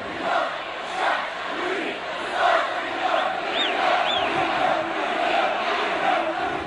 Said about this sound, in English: It's noisy, it's chaotic, but the people are ecstatic.